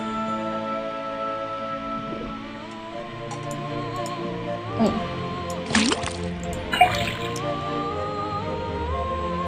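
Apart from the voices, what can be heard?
faucet tapped, liquid dripping into cauldron in video game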